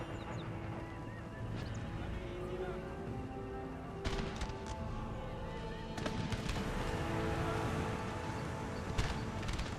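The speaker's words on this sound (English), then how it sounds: "Here comes the gunfire." Scattered sharp musket shots crack out in the game Empire: Total War, a few single reports spaced seconds apart amid busy battle ambience and honking tones.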